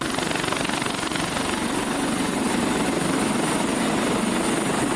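A helicopter flies over flood-hit areas during relief operations, its dense rotor roar loud and steady throughout with no pauses.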